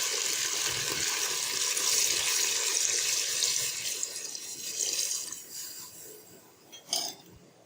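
Water pours into a cooker holding mutton paya (goat trotter) masala in a steady, close splashing gush that eases off, with a short burst near the end.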